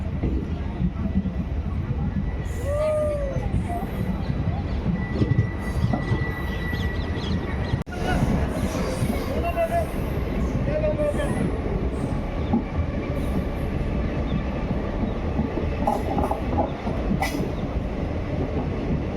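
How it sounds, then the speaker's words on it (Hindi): Runicha Express pulling out of Kuchaman City railway station, a steady rumble of rolling carriages with faint wheel squeals and clatter throughout, voices murmuring in the background. "रुनीचा एक्सप्रेस डिपार्चर हो रही है कुचामन सिटी रेलवे स्टेशन से"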